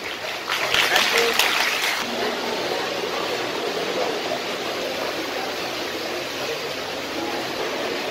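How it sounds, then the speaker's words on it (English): An audience at a student award ceremony applauds, a dense steady wash of many hands clapping at a moderate distance that holds evenly for several seconds. "Please give a big round of applause."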